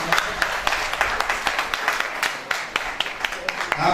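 Audience applause at a mushaira poetry gathering in Layyah, Pakistan: dense, steady clapping from a crowd runs through the whole stretch, with sharper individual claps standing out.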